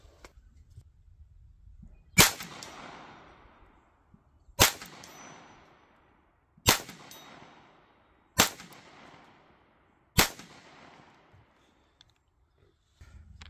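Five sharp .22LR shots from a Beretta target pistol ring out at an outdoor range, evenly spaced about two seconds apart, each a crisp crack with a brief decaying tail and quiet between.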